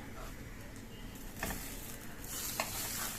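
A paneer paratha roasts on a hot pan, giving a steady low sizzle with soft scraping and a few brief clinks, fairly quiet and continuous, with no talking.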